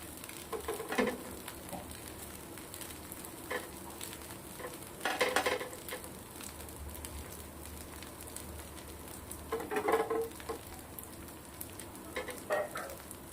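Masala dosa cooking on a griddle in peanut oil, with a soft steady sizzle and intermittent scraping and stirring bursts spread across the stretch, no talk.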